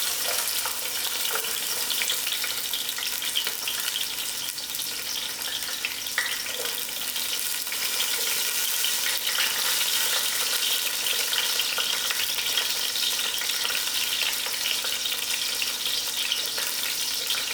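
Onions frying in a pan for a chicken curry, a dense, steady hiss of sizzling oil close by with occasional stirring and no talk.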